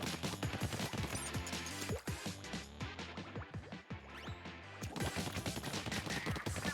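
Rapid bursts of weapon fire from the shooter video game Splatoon 2, dense crackling volleys running almost without a break and pausing briefly twice before resuming, loud and close with background game music.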